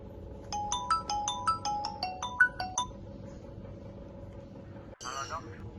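A mobile phone ringtone plays a repeated bright melodic phrase for about two and a half seconds over a low rumbling background in a short drama scene, then cuts off before a brief vocal sound.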